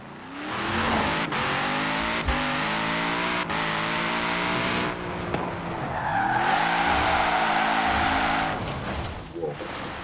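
A deep, throaty car engine in the video game Forza Horizon 4 rumbles and revs steadily, with gear shifts and a brief tire squeal, loud and close with no talking.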